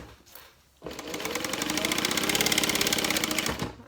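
A sewing machine runs a steady, rapid stitching pass on a medium-sized handbag, starting after a brief quiet moment and holding an even mechanical rhythm for about three seconds before stopping.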